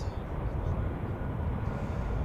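A Helvetic Embraer jet on final approach to Zurich Airport during a storm, a steady broadband roar of engines and wind that fills the scene without pause.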